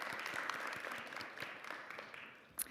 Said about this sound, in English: Can we all give you a round of applause?